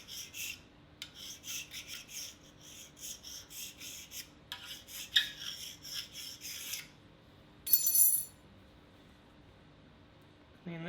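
Deburring stone or file rubbed over a scraped cast iron way on a Monarch 10EE lathe, giving repeated close rasping strokes in bursts with short pauses, no talking.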